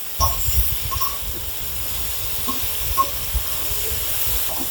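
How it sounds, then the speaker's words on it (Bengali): Potatoes and pointed gourd with salt and spices frying and being stirred in a pan: a steady close sizzle under a run of low scraping and clattering stirring noises, with a few brighter knocks from the spoon, no talk. "এবার মশলার সাথে ভালো করে মাখিয়ে নিচ্ছি।"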